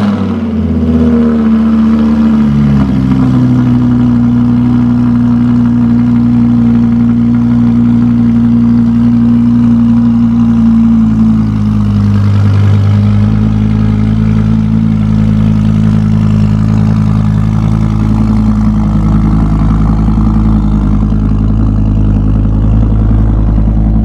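A Mercedes AMG GLE 53 engine cold-starts and settles into a loud, steady, high idle, its deep drone continuous and unbroken, with the pitch dipping slightly partway through.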